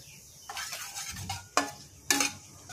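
Onion frying in a pan while being stirred with a utensil, with a low sizzle under a few sharp scrapes and clinks against the pan, the last two louder than the first.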